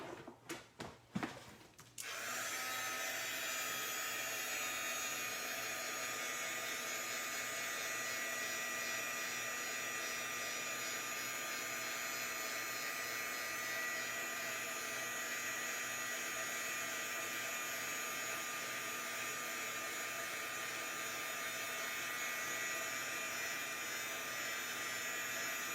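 A heat gun melting embossing powder on a stamped card, a steady loud blowing whir that starts after a few handling knocks and runs on without a break.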